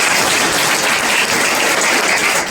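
Applause for a teacher at a Class 10 school farewell function in Shahkund, a dense, steady wash of clapping that fills the whole moment at loud, even level without gaps.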